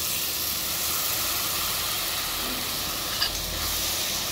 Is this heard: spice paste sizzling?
yes